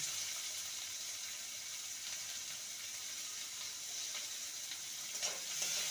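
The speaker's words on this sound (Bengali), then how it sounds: "পেঁয়াজটাকে হালকা ভেজে নেব" Steady, bright sizzle of finely chopped onion lightly frying in a hot pan, continuous and close, with a faint clink near the end.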